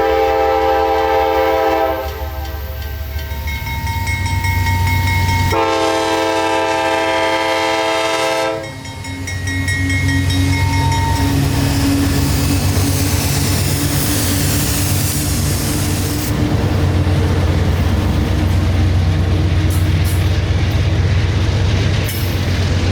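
A train passes a remote rural crossing on Old State Highway 37 in Central Florida, sounding loud, sustained horn blasts near the start and again midway, followed by the heavy rumble of the train rolling by close up.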